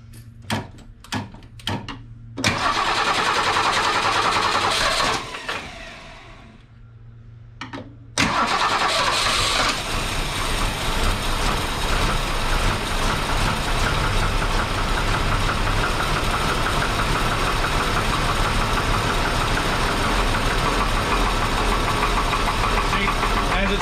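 A 1961 Ford Falcon Delivery engine cranks a few times, catches and settles into a loud, steady idle with a possible lifter tick, close to the microphone with no talk.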